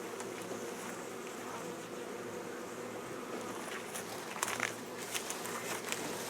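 Honey bees buzz in a sparsely populated hive, a soft steady drone with occasional light crackles and taps close by.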